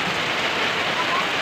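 Heavy, non-stop rain during island flooding, a dense, steady hiss of downpour that stays loud and close without any pause.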